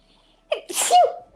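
A single sharp sneeze rings out close by, quick and clear against otherwise quiet surroundings.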